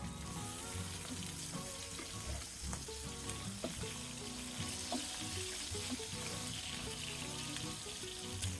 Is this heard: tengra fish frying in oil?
yes